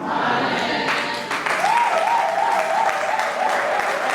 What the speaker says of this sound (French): Encore un tonnerre d'applaudissements pour cette nouvelle casquette, le don de Dieu